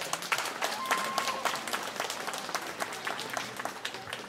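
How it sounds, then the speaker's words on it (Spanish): A crowd applauds the Virgin of Sorrows during a donation list gathering, brisk clapping that holds for several seconds at moderate distance with a few voices underneath. "vamos a brindarle un fuerte aplauso especialmente a nuestra Madre Virgen de los Dolores"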